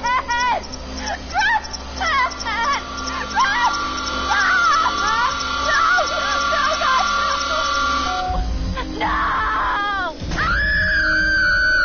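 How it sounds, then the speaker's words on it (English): A woman screams repeatedly in the Until Dawn horror video game, with sustained, wavering cries layered loudly over game music and ambience while a player talks over them. "I do wish I could make her stop screaming"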